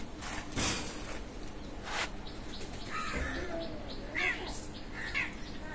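Soft coos and a few chirps from Pakistani Teddy pigeons sound amid steady background noise, with no clear talking.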